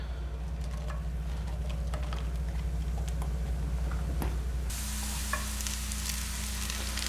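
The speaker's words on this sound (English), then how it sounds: "this is just a very light saute" Shiitake mushrooms and kale sauté lightly in olive oil over medium heat, a soft continuous sizzle with occasional faint ticks and stirring taps, a steady hum underneath.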